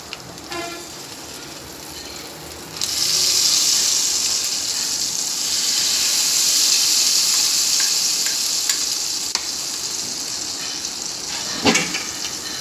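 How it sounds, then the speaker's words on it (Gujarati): Hot spice tempering of oil and red chilli hits handvo batter with a sudden loud sizzle that swells into a sustained bright hiss, followed by a few faint clinks near the end. "ત્યારબાદ જોઈ શકો છો વઘાર તૈયાર છે. અને આ રીતે હાંડવામાં ઉપર રેડતું જાઉં."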